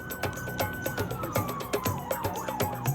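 Police car sirens wail as the cars speed through a city, with a sliding tone over busy traffic and street noise, fairly close and steady, with no talking.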